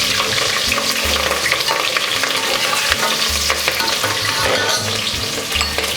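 Green chilies sizzle and fry in a pan while being stirred for cabbage biryani, a steady dense crackle punctuated by spoon scrapes, loud and close, without talk.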